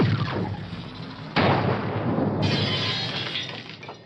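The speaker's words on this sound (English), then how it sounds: "Fire the cannon!" A loud, sharp cannon blast at about one and a half seconds, followed by a long rumbling, crackling roar that stays loud to the end.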